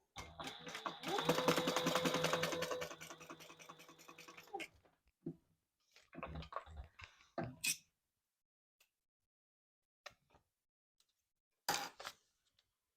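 Sewing machine top stitching a leather double zip wallet, one steady run of rapid stitching lasting several seconds, then going quiet with only a few scattered clicks and handling knocks.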